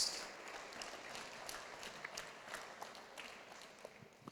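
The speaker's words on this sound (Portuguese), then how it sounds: "Vamos dar uma salva de palmas para Jesus?" A church congregation applauding during a Thursday worship service, scattered moderate clapping that continues steadily for a few seconds in a reverberant room.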